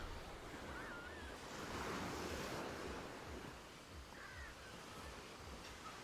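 Ocean surf on a sandy beach on Gulhi Island in the Maldives, a steady wash of waves rolling in and out under light wind noise, with faint bird calls and no talking.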